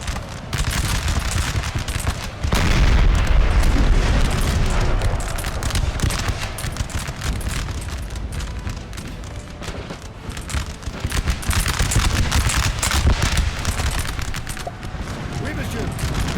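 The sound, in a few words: cannon artillery fire in Napoleon: Total War video game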